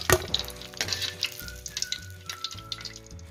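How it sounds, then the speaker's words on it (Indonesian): Popiah buncit rolls stuffed with sardine filling fry in hot oil, a crackling sizzle with scattered pops beneath steady background music. "Kita goreng sampai dia garing lah popiah kita ni."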